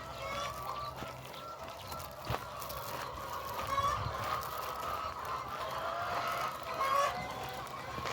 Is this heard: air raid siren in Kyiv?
no